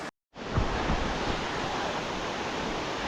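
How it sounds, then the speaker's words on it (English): Steady, broadband rush of a mountain waterfall close by in the Sangre de Cristo range, Colorado, a continuous roar without pauses, after a brief silent gap at the start. "Got a waterfall."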